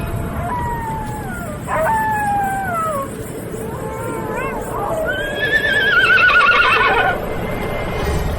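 A horse neighs several times in a row, loud shrill whinnies rising and falling over a low rumbling background.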